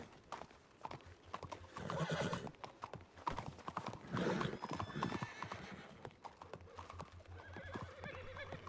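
Horse hooves clip-clop and a horse neighs in a Red Dead Redemption RedM roleplay game, the hoofbeats steady and close while a whinny rises over them, with some game ambience around.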